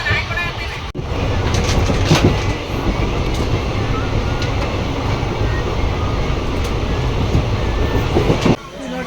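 A passenger train bound for Miraj runs on its rails, heard from on board as a loud continuous rumble with clattering wheel noise and a few sharp knocks, with murmuring voices in the background.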